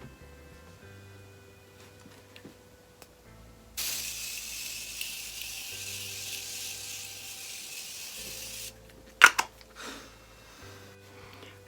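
A Morphe setting spray mists onto a face as one long hissing burst lasting about five seconds, followed by a couple of quick louder spritzes, over quiet background.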